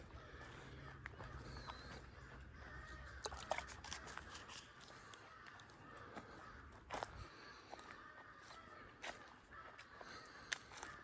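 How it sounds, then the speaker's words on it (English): Crows caw from the trees of a Missouri park, harsh calls rising now and then over a low outdoor background, mostly distant with a few sharper, nearer cries. "Now the crows are sort of"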